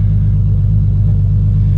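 A car with a 2JZ engine and Tilton twin-disc clutch idles with a steady, close, deep rumble as it is put into gear, with no voices over it.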